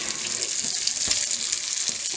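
Water poured into a hot pan of frying pork loin and shrimp, giving a steady, close hiss and sizzle that runs through the whole moment with no talking.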